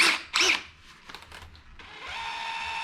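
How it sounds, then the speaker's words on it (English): A center drill runs in short close bursts, then settles into a steady whining hum as the bit bites into metal. "center drill"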